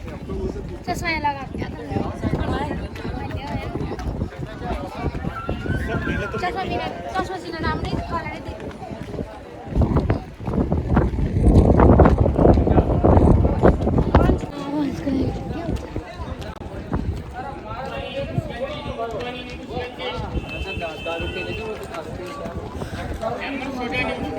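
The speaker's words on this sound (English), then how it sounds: "It's so windy here, it's nice." Wind gusts buffet the microphone over a long stretch outside Amer Fort in Jaipur, India, swelling to a heavy rumbling roar midway, with people talking on and off throughout.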